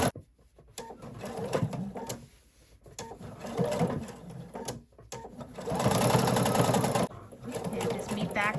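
Sewing machine stitches around a circle on an up-cycled denim jeans pillow, a steady close mechanical whir with rhythmic needle clatter that speeds up and pauses in bursts.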